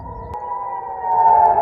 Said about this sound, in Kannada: ಸೈರನ್ ಕೂಗ್ತಾ ಇರುವಂತಹ ಧ್ವನಿಯನ್ನು ನೀವು ಕೇಳಿಸ್ಕೊಳ್ಬಹುದು